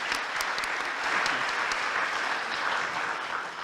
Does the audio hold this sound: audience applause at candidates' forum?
yes